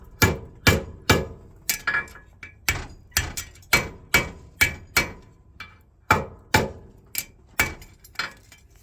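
A farrier forges a front horseshoe, hammering it on an anvil with sharp, ringing metal strikes in a steady rhythmic series that falls into short groups, loud and close.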